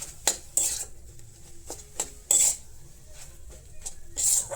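A spoon repeatedly scrapes and clinks against a pan while mashed potato filling for bathua saag paratha is stirred, with sharp metallic knocks in an irregular rhythm, close and without talk.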